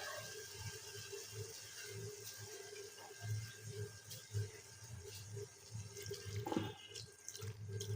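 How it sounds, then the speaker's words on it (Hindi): Water poured into a cooking pot of fried minced meat and potatoes, a soft steady splashing and trickling, fairly faint and close, with occasional small clinks. "अब मैंने इसमें इतना पानी डालना है कि आलू गल जाए।"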